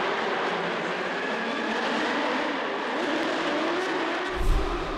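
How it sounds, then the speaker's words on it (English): Drift cars including a Nissan S14 bouncing off the rev limiter at a D1NZ round at Forsyth Barr Stadium in Dunedin, a dense continuous roar of engines and crowd-stadium wash heard from a distance, with a brief thump near the end. "Plenty of limiter, plenty of throttle, both drivers looking strong in their first pass."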